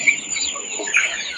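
A native village chicken clucks close by in short, bright bursts, loud and clear over a faint background hum.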